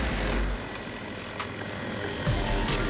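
Helicopter rotor and engine noise in a video game, a steady broadband whir with low thumping at the start and end, continuous and fairly close, with no talk.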